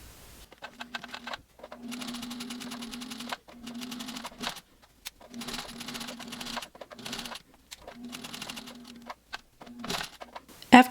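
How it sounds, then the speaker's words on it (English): A home sewing machine stitches a quarter-inch seam joining the front and back of a reversible fabric mask, running in steady mechanical bursts with brief pauses between them, close and clear. "sew a line 1/4 inches all the way down"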